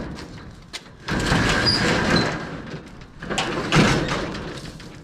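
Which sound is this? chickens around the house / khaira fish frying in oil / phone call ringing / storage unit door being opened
storage unit door being opened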